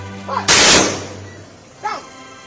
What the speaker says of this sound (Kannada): ಪೊಲೀಸರು 3 ಸುತ್ತು ಗುಂಡು ಹಾರಿಸಿ ಗೌರವ ಸೂಚಿಸಿದರು